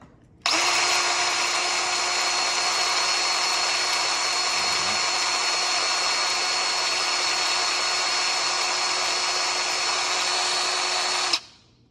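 A DeWalt 20 volt cordless grease gun runs in one steady, loud, continuous whine for about eleven seconds, starting and stopping abruptly, with no talk.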